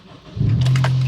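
A 2000s Acura RSX Type-S with a weak battery tries to start, a short click and rising crank that settles into a steady low hum, close and fairly loud.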